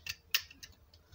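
Scissors cut through the material of a luxury box, giving three or four quiet, crisp snips in an irregular rhythm.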